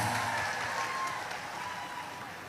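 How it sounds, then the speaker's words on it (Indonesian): An audience at an Islamic religious gathering in Taiwan applauds in a steady, dense wash of clapping that fades slightly toward the end. "Tepuk tangan untuk Banser Taiwan."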